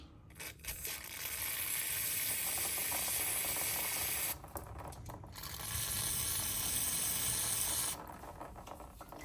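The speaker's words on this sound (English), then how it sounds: "I'm gonna go ahead with some brake clean and just spray them off." Steady, loud aerosol spraying of brake cleaner onto the rear brake clips of a 2023 Tahoe in two long bursts with a short break between, a harsh hiss filling the space, followed by quieter background.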